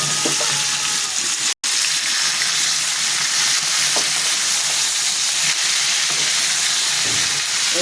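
Vegetables tipped into hot oil with ginger in a pan, a loud continuous sizzle and hiss close by, with a brief cutout and occasional stirring clinks.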